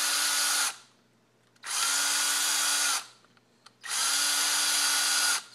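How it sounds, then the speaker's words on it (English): An electric drill unscrews screws on a BIG-REACH pole tip connector in three loud, whirring bursts of about a second each, separated by brief quiet pauses with small clicks. "I'll show you how to do that with an electric drill."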